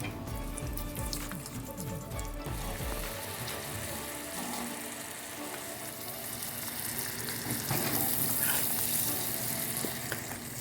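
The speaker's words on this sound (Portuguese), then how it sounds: "Agora eu vou dar uma mexidinha e vou deixar ferver e vou mostrando o ponto." A syrup of sugar, water and glucose is stirred in a pot and brought toward a boil, giving a continuous bubbling hiss with scraping stirring strokes at the start.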